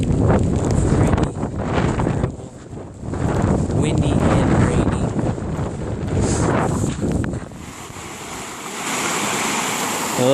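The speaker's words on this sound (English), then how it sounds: "Pretty terrible. Windy and rainy." Wind roars in heavy, buffeting gusts against the microphone on a rainy Pacific Crest Trail hike between Ashland and Timberline Lodge. The rush of wind swells and eases, and a steadier hiss takes over near the end.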